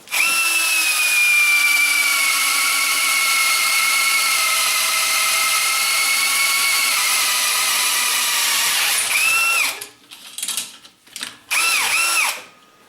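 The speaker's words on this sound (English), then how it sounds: "We'll go ahead and pop a hole in this 4-inch pipe" A power drill with a 3/8-inch bit whines steadily at high pitch as it bores through a 4-inch metal pipe for several seconds, then stops and restarts in short bursts.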